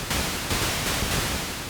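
Noise oscillator of a simple two-oscillator Moog monosynth keytar, a steady broadband hiss with slight swells, fairly loud and sounding alone throughout.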